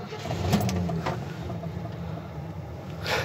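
A Jeep J20 (SJ Gladiator), an old Air Force pickup, runs with a steady low engine drone throughout, close by and fairly even, with no talking.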